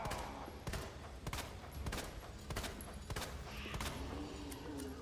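Rapid, sustained gunfire in the Resident Evil 2 Remake video game, with sharp shots repeating roughly every half second over a dense, rumbling game soundscape, loud and continuous throughout.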